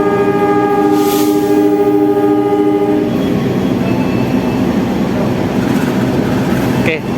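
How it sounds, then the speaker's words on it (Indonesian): Passenger trains meeting at a station, including a Motis economy train, with a loud horn blast fading after a few seconds into rumbling wheels and clatter, ending on a sharp click. "Wah, ini dua kereta dengan kelas yang berbeda."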